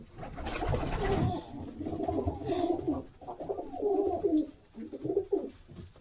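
Pigeons in a loft give a run of low, rolling coos, several calls close together and fairly near, with a brief flutter or rustle at the start and no talking.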